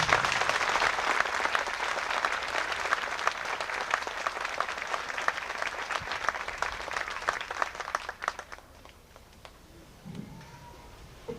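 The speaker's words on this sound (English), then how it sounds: "Now you may applaud." Dense, steady applause from a large audience at a 1993 HBES school graduation ceremony fills most of the clip, then thins and fades to a quiet room with scattered last claps.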